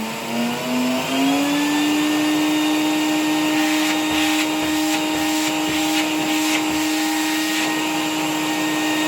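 A commutator-motor vacuum cleaner hums through an RS-6-220 power regulator made in Ukraine in 1992, its whine climbing in pitch at the start and then holding a loud, steady drone with slight fluctuations.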